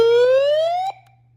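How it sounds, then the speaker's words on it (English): Alarm siren of an Eoxsmile NOAA emergency weather radio, a solar hand-crank unit: one loud electronic tone rising steadily in pitch for about a second, then cutting off abruptly. "It also has an alarm."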